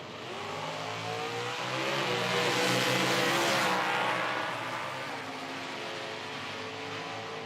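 Nitro drag race cars at an IHRA Outlaw Nitro Series event roar down the strip, a loud sustained engine howl that swells to a peak mid-clip and then fades as they pass.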